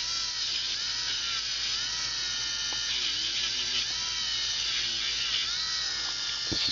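A tapered pumice wheel on a rotary tool polishes the claws of a four-claw ring setting, making a steady, close, high-pitched buzzing whine that holds without pause.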